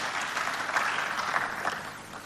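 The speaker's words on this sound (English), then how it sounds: "Why don't we encourage him with a clap as he approaches the stage." Audience clapping steadily at a live gathering as a guest walks up to the stage, a dense, even patter with no voices over it.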